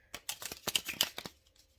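A tarot deck is shuffled in mid-air, giving a quick run of crisp, papery card flicks and riffles that bunch into bursts over about a second, then trail off into quiet.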